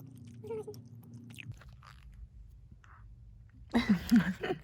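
Soft, close chewing of Haribo gummy candy, quiet at first under a low room hum, then a short burst of louder, wet mouth sounds near the end.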